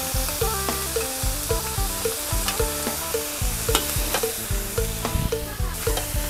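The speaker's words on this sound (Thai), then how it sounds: "จากนั้นก็ผัดเครื่องให้เข้ากันนะคะ" Spicy eel stir-fried with light soy sauce, sugar and oyster sauce, giving a loud, close sizzle with rapid, rhythmic scraping of a utensil against the pan throughout.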